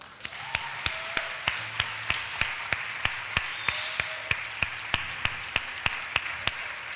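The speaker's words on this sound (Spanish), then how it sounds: "Vamos a darle un aplauso a Dios." A church congregation claps in unison, giving sharp, evenly spaced beats at about three per second over a faint, steady background hum.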